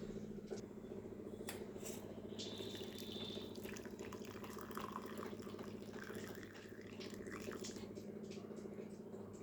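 Warm butterfly pea flower tea is poured through a filter into a cup, a faint, quiet trickle and splash of liquid with soft clinks, heard at low volume throughout.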